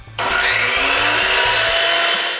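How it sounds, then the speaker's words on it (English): A power sander starts up on a wooden base molding, then holds a steady, loud abrasive whir with a faint pitch glide, with no voices. "The base molding is sanded by hand and with the sander."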